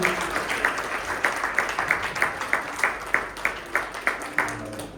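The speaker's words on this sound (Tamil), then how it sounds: "இன்னொரு பெரிய கைதட்டு கொடுப்போம் பிள்ளைகளுக்கு" A church congregation at a Christmas service claps for the children after their drama, a fairly quiet, regular rhythmic clapping in unison with evenly spaced beats, without speech.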